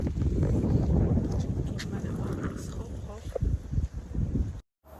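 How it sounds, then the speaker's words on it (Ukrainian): Strong wind buffets the microphone outdoors on a cold day near a castle in Holíč, Slovakia, a loud continuous rumble with people talking under it. "Вітер дикий."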